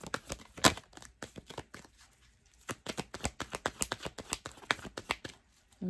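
Tarot cards shuffled by hand, a rapid series of crisp riffling snaps and flutters close to the mic, pausing briefly midway before resuming in quick bursts.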